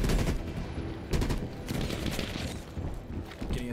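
Rapid bursts of automatic gunfire in the Call of Duty Black Ops Cold War campaign, loud and close, repeated volleys with a sharp crack around the one-second mark and steady rattling throughout.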